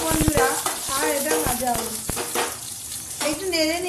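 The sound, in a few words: panch phoron and whole cumin stirred in hot oil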